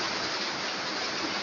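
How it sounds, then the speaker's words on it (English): Steady rainfall hisses as an even, continuous wash of noise, close and moderately loud, with no voices over it. "the rain is disturbing the flow of the whole thing"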